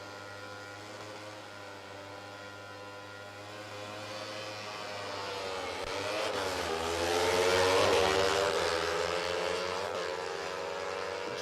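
Junior drag bikes race down the strip at Sydney Dragway, engines droning at a distance, then swelling louder and rising in pitch as they pass and fade slightly, with no voices.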